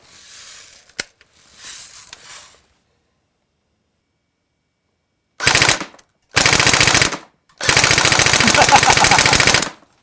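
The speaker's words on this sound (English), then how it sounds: "Let's see what we get from a full auto blast." An S&T Armament PPSh AEG airsoft submachine gun firing full auto, three rapid buzzing bursts, the last and longest about two seconds, loud and close, after some quieter handling noise.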